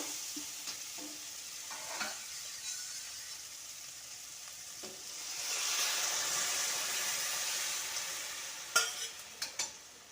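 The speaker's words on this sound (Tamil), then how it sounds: "வெங்காயம் பூண்டு தக்காளி பச்சை மிளகாய் எல்லாம் வதங்கிருக்கு" Onion, garlic, tomato and green chilli sautéing in a pan for chilli sambar, a soft steady sizzle that swells in the middle, punctuated by occasional spatula taps and a few sharp clinks near the end.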